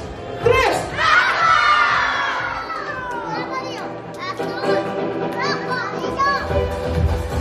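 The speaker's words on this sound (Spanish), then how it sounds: "A la cuenta de tres, todos me gritan su color favorito" At a Children's Day party in Tijuana, a large crowd of children shouts out together in a loud, overlapping burst of high voices that tails off into scattered calls and chatter.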